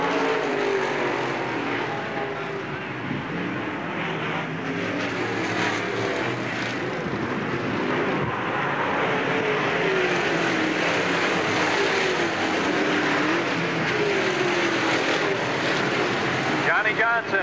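NASCAR Busch All Star Tour stock cars roar through the last lap at Freeport Raceway, a steady loud engine drone with rising and falling pitch sweeps as cars pass, under continuous announcer commentary.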